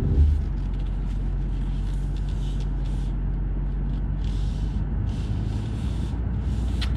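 A BMW M850i luxury coupe on the road, with a steady, loud engine and road drone throughout and some brief hissy bursts above it, no talking.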